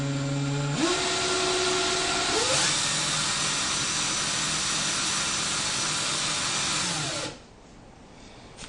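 An electric drill spins to wind thread onto a spool, a loud continuous motor whine that ramps up in pitch, holds steady for several seconds, then winds down and stops, leaving quiet room tone.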